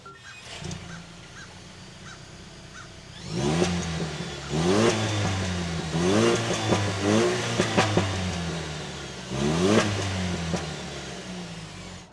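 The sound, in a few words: 2024 Toyota Tacoma Trailhunter engine starting and revving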